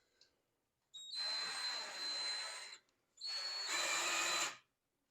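Two loud bursts of a whining power tool with a diamond polishing pad grinding a countertop, with a high steady tone over harsh abrasive noise, close by.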